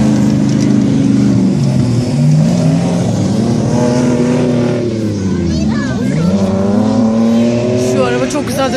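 An off-road car races fast along a dirt track at an off-road challenge course, its engine revving loud and close with rising and falling pitch as it accelerates and turns, while people talk excitedly over it.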